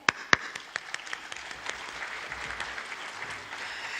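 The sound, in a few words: audience applauding at parliamentary seminar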